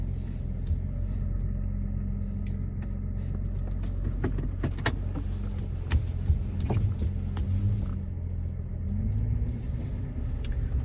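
A car pulls out of a parking spot, a low steady engine rumble from inside the cabin with small clicks and knocks throughout and a slight rise in engine pitch near the end.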